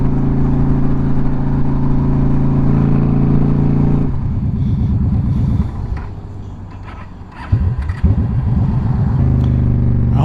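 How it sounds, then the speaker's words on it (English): Motorcycle engine running loudly under a rider, then dropping off and cutting out partway through before briefly catching again with uneven sputtering; a carburetor fault is suspected. "See how the engine just cuts out?"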